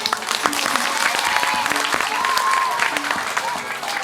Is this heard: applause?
yes